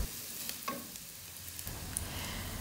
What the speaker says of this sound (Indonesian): ini langsung aja Mama tumis bawang sama cabenya tadi